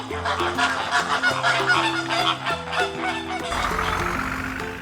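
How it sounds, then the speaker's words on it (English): A flamingo gives a series of loud, nasal, goose-like honking calls over a soft tonal music bed. "Flamingo."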